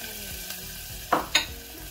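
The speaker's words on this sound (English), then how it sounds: "let me fry some of the onions from here." Onions frying in a pan while beef stew, spicy coconut rice and sautéed spinach are being cooked: a steady low sizzle runs throughout, broken by two brief sharper bursts like stirring or food shifting in the hot oil.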